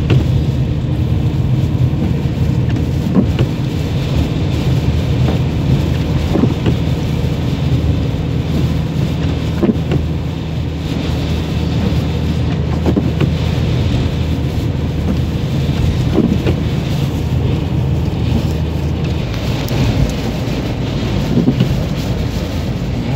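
A car drives through a snowy blizzard, with steady, loud wind buffeting and a low engine and road rumble that runs unbroken throughout, with no voices.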